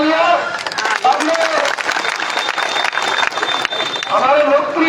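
Loud, steady applause from a public gathering at a political address by a politician in Bhadi, continuous clapping with a murmuring crowd and voices mixed in throughout.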